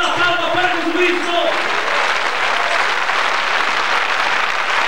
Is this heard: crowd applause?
yes